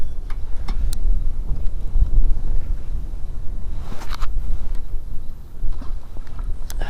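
Steady wind rushing and buffeting across an open riverbank, with low rumbling gusts and a few faint clicks in the background.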